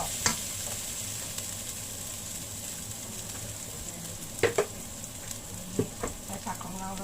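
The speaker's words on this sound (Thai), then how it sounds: "ผัดน้ำมันร้อนแล้วหอมแล้ว" Garlic, coriander root and pepper paste stir-fried in hot oil for vegetable spring rolls, a soft steady sizzle with occasional scraping clicks of the spatula against the pan, no talking.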